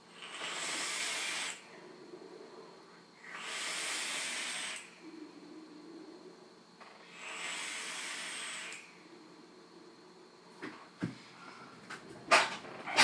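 Three long pulls on a Stingray X clone vape tube draw airflow into a soft hiss, each lasting about two seconds with pauses between, followed by a few sharp clicks and handling knocks near the end.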